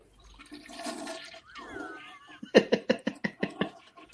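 Toilet flush sound effect on a talk show, a gurgling rush of water followed by a quick series of sharp knocking thuds, with faint voice at the start.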